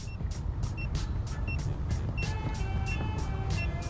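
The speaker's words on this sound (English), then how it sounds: "See how it's beeping?" A 2025 truck fitted with sequential LED turn signals gives off evenly spaced electronic beeps, about two a second, fairly faint over a low background hum.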